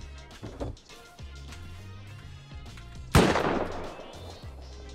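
A single loud burst of automated turret gunfire in a video game cuts in suddenly and tails off, standing out over a steady low in-game hum.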